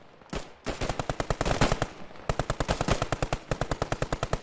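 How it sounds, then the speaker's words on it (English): A Ranger Battalion squad lays down suppressive cover fire, loud rapid bursts of automatic gunfire in a fast, even rhythm, broken by a short pause before a long continuous string of shots. "one squad stayed behind, providing suppressive fire"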